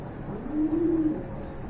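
A pair of red Indian Bombay pigeons gives a soft, low rolling coo that swells in the middle and fades, close by over a steady background hum.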